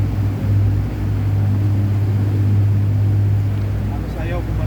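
An engine holding steady at about 20,000 RPM, a continuous loud droning hum with a strong low tone and broad roar, steady throughout with no clear breaks.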